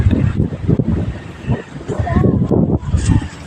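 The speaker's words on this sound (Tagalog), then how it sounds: "Sobrang lakas ng hangin." Strong wind buffets the microphone with a constant roaring rumble while people talk over it outdoors at EdgeWater, Subic Bay.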